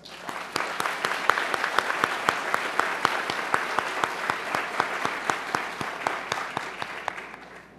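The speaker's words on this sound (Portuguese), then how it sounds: "a quem peço uma salva de palmas" An audience at the tenth Brazilian Congress of Consumer Law gives steady, sustained applause: dense, even hand clapping filling the hall for several seconds without a break.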